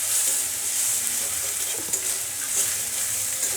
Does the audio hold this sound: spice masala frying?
yes